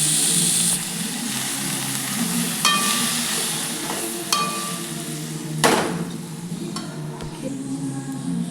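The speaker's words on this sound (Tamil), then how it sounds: "கீரை நல்லா போட்டு வதக்கிற வேண்டியதான்" Drumstick leaves sautéing in a pan with onion, mustard seeds and curry leaves for a Nagercoil-style murungai keerai kuttu: a steady close sizzle broken by sharp spatula knocks and scrapes against the pan.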